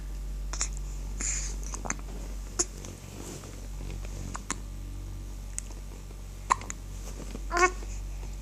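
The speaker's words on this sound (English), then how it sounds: "hiccups." Small, abrupt hiccups pop up irregularly over a quiet low hum, soft and close, with a slightly louder catch near the end.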